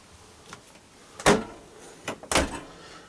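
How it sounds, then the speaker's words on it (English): A 2011 Buccaneer Caravel caravan's sliding door rolls along its track and bumps shut, with a few sharp knocks and clunks close by and no talking. "this door here sort of cleverly comes back, shuts off"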